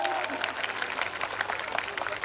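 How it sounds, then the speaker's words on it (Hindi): A festival crowd at the Rohila Mahotsav gives a brief, dense burst of clapping to welcome a guest, and a voice is faintly audible beneath it. "माननीय श्री भूपेंद्र भैया का एक और बारी तालियों के साथ स्वागत किया जाएगा।"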